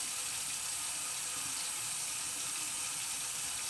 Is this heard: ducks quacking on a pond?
no